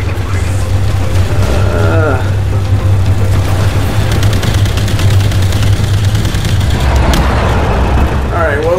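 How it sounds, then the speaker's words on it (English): Loud gunfire and rumbling combat in the VR shooter Call of Duty: Infinite Warfare Jackal Assault, a dense continuous barrage with engine roar and whooshing effects throughout. "Getting shot at."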